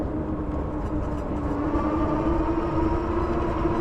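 A small zoo train passes, a steady rumbling rail drone with a sustained tonal whine that rises slightly in pitch, continuous and fairly near, with no talking.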